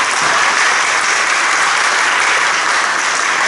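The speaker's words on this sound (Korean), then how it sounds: "뜨거운 박수 한번 해주시겠습니다." Warm applause from an audience at a Korean church denomination's policy debate for election candidates, a steady, dense clapping that fills the room without pause throughout.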